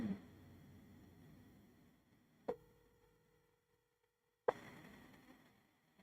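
A phone call goes unanswered as faint, steady tones drone on in near silence, set off by two sharp clicks.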